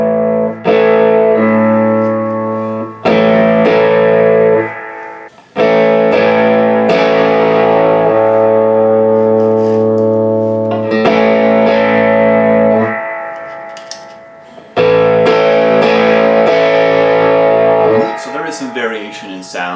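Electric guitar played through a Paul Cochrane Timmy V2 overdrive pedal, loud sustained overdriven chords struck in phrases with short gaps, ringing out and decaying between strums.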